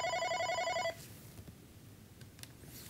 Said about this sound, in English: I wait for the call to start ringing